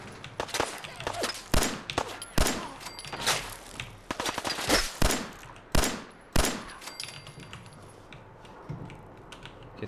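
Video game gunfire in Fallout 4 rattles out in rapid bursts of sharp shots with mechanical clacks between them, loud and close, tapering off toward the end.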